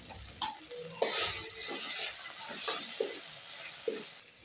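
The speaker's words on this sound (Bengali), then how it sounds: "গুঁড়ো মশলাগুলো একটু নাড়াচাড়া করে যাতে পুড়ে না যায়" Ground spices frying in a pan for a potato and pointed gourd curry, a soft sizzle under repeated light scrapes and taps of a spatula stirring at an uneven pace.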